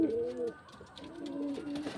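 Pigeons kept in a home loft, including a male, coo in two clear, drawn-out throaty phrases close by, separated by a short pause, with faint rustling between.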